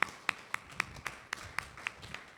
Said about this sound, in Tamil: கையை தட்டுங்க